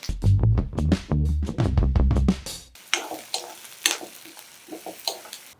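A quick burst of sizzling as tempering spices and dried red chillies hit hot oil, followed by lighter crackling and scattered pops settling into a steady fry.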